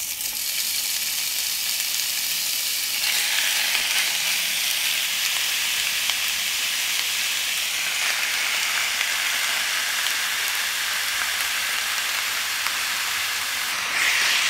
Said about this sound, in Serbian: Ulje se zagrejalo i pržim sada meso.